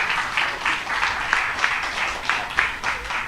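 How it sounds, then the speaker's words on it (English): A closing round of audience applause at a live media evening event, steady dense clapping of a crowd sustained throughout at moderate loudness, with no talking over it. "maybe, well, we can have one last round of applause"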